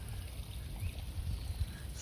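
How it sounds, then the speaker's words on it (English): Small waterfall splashing into a shaded park pond with koi, a steady low rumble of falling water, faint and continuous, with light birdsong-like traces and no talk. "And there's a little waterfall there."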